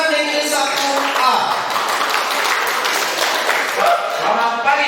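A school audience at a high-school Indonesian-language debate in TTS regency claps and applauds, a dense, loud, steady wash of clapping lasting the whole stretch.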